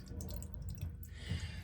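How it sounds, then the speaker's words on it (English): Water trickles and drips out of the bottom of a clogged air conditioning condensate drain pipe under an air handler, a soft, steady close-up flow with scattered drips. "right now the water is draining out of the bottom of the air conditioning system"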